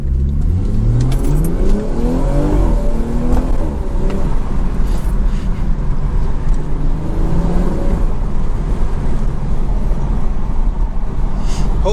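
A cold BMW 340i pulls hard from inside the cabin, its engine note climbing through several gear changes in rising sweeps. The drone stays loud and steady throughout, with no talk.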